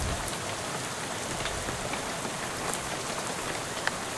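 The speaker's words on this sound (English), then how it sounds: "How about this rain, huh?" Steady rain falls in the video game Shadows Over Loathing, a constant even hiss of drops with a few sharper spatters, heard alone without any voices.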